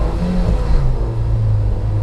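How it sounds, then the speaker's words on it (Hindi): A cheap E20-compliant car with a tuned-sounding engine revs hard as it accelerates. The roar is loud and continuous and climbs steadily in pitch, with no talk over it. "it's already sounding like a very tuned car"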